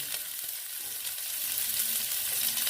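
Chopped onions with nigella seeds sizzle and crackle in a hot pan of oil while okra is cooked. The frying is loud, close and continuous, with a few soft stirring scrapes and no talk.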